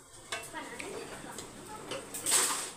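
A spoon scrapes and clinks against a metal pot while thick semolina is stirred, with faint sizzling underneath.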